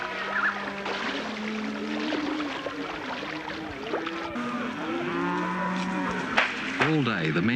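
Wild Kimberley cattle moo repeatedly while being herded by horses and stockmen, overlapping low calls and rising bellows from several animals, fairly close, over a busy background of hooves and movement.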